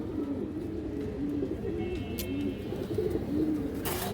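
Pigeons from a kept collection coo nearby in a soft, repeated low rhythm, several calls in a row. A few faint chirps and light knocks sound in the background.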